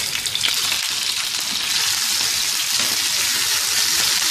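Mutton pieces sizzle steadily in a pan with ginger-garlic paste, a dense, even frying hiss that stays loud and continuous throughout with no talk.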